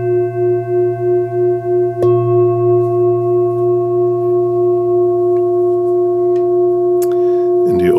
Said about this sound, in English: If you use a smaller one like this,